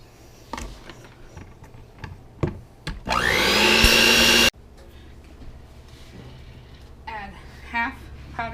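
An electric mixer whirs loudly for about a second and a half while beating a cup of butter until smooth, framed by quieter clinks and handling sounds before and after.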